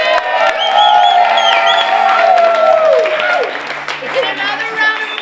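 A studio audience at a Hollywood talk show cheers, whoops and applauds loudly for a musical guest, the crowd noise swelling and then easing while a host talks over it.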